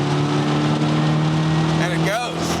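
A classic Mini Cooper S engine revs hard as the accelerator is floored, a loud continuous drone with steady harmonics and a rising whine near the end, heard from inside the car while someone talks over it.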